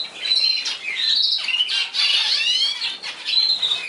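Zebra finches and parrot finches calling and chirping in quick, overlapping bursts, high and fairly close, with squawky notes and occasional wing flutter, no talk.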